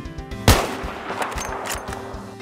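A single loud sniper rifle shot cracks in a video game headshot competition, sharp and close, followed by a short ringing tail and faint in-game background sounds, no talking.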